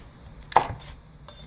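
A kitchen knife slices a chili pepper lengthwise down the middle for a squid stir-fry, making a single soft, close chop against a cutting board in an otherwise quiet kitchen.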